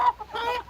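A hen from a small backyard flock gives a short run of soft clucks and a brief squawk, close by and over in under a second.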